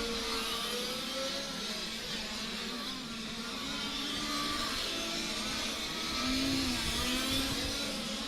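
A large-scale RC touring car roars down the back straight at a race meeting, its motor a loud, steady whine with rising and falling pitch sweeps and no gaps.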